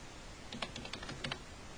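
Quick typing on a computer keyboard while entering an employee ID number, a short burst of close, soft key clicks in an irregular rhythm.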